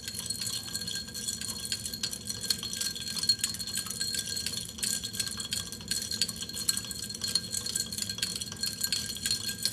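Crushed ice being stirred in water inside a container during a heating experiment, giving steady clinks and scraping of ice and glassware that continue evenly for several seconds with no one talking.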